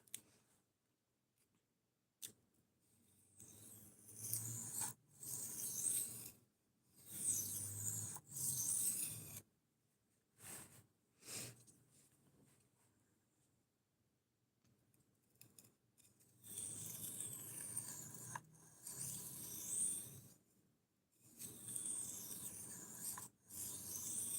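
A knife blade sharpened on a 1000 grit stone, bursts of quiet scraping strokes separated by silent pauses, close and faint, with no talking.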